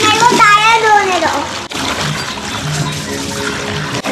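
Water splashes and runs as a child washes a car's tyres, a steady wet rush beneath close talk from a child and an adult.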